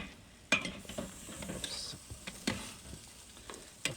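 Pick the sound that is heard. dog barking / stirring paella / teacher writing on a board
stirring paella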